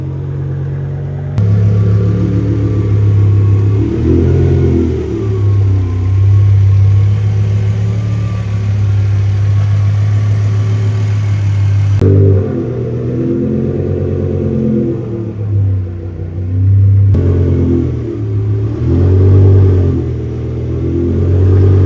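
BMW E60 M5 V10 revving hard on a dyno, a loud sustained mechanical roar that rises and falls through several long pulls with brief gaps between runs, close and dominant with no talk.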